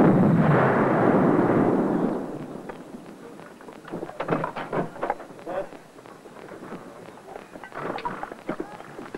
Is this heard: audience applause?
no